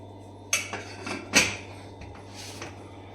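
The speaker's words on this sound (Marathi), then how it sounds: "आता आपण कुकरचं झाकण लावू" A few metallic clanks and clatters as a pressure cooker lid is fitted onto the cooker, with a steady hum underneath.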